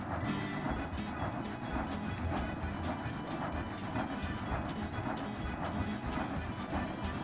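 A locomotive runs in a cartoon adventure game aboard the Orient Express, a steady rumbling roll with rhythmic clickety-clack of wheels on rails, continuous and fairly loud throughout.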